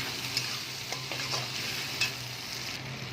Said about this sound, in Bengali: আমি এর মধ্যে এবার আদা রসুনের পেস্ট দিয়ে দেবো।